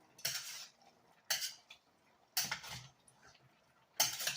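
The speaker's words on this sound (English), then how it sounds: "I'm going to give that a stir again." A thick beef stew with potatoes is stirred in a pot, four separate bursts of scraping and clinking from a spoon against the pot, spaced by quiet pauses.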